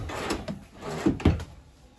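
Drawers in a 2014 Shasta Flyte 265 DB travel trailer are opened and closed, giving a few close wooden knocks and slides, with two sharper thumps near the end.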